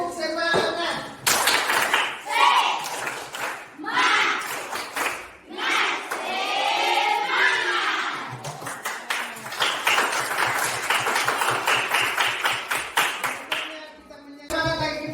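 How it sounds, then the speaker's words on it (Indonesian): A class of students doing a rhythmic 'tepuk semangat' clap routine, bursts of hand claps repeating in patterns alongside voices calling and chanting throughout. "Pak Guru akan panggil tepuk semangat ya. Oke, tepuk semangat."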